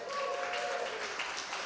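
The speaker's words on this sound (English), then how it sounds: "everybody give a hand clap for Danny." Church congregation clapping for a helper during a Sunday service, a steady wash of hand claps at moderate distance lasting under two seconds, with a faint tone running through the first half.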